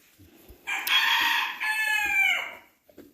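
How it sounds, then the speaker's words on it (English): Roosters on a farm crow loudly and close by, giving two long drawn-out cock-a-doodle-doo calls back to back. Soft clucking can be heard in the background. "Noisy roosters."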